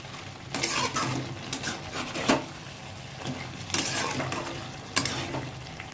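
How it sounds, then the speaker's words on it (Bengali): Spice paste with chili flakes being stir-fried in oil for a chicken curry, a steady sizzle under repeated scraping and clinking of a spatula against the pan, close and moderately loud, with no talking. "এরপরে এই মশলাটাকে নিয়ে কষাবো, যতক্ষণ না পর্যন্ত তেল ছাড়ে ততক্ষণ অবধি কষাতে থাকবো।"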